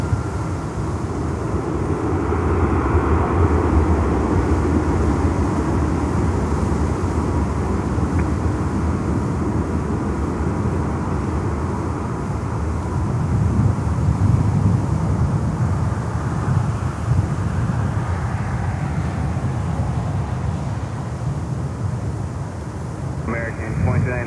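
An American Airlines Boeing 737 MAX 8 jet at Miami airport produces a continuous low engine rumble mixed with wind buffeting on the microphone, swelling slightly midway.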